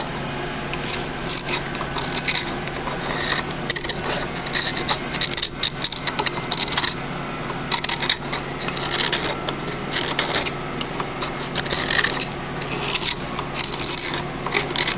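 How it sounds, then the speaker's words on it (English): A hand scraper cuts and deburrs the metal seat inside the hydraulic pump of a Ford 641 tractor, giving steady close raspy scraping strokes in a continuous irregular rhythm with no talk. "I mean, you can hear it and I can feel it cutting that metal."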